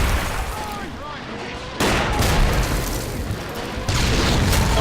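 Gunfire and artillery booms from the Men of War Assault Squad 2 battle game at Tannenberg roll on continuously, dense and loud, with a fresh surge of explosive fire partway through.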